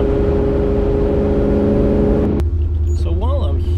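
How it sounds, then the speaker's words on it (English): Maserati Ghibli Spyder V8 engine, a loud, close, continuous low rumble that changes character partway through, with someone speaking over it. "It has that V8 sound."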